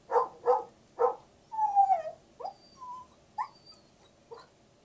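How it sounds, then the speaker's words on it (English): A dog sound played through a Google Home smart speaker: several short barks followed by high whining whimpers and yips, fairly quiet and clear with no talking over it. "This is a dog."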